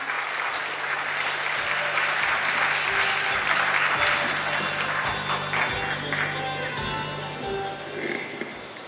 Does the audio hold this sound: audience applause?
yes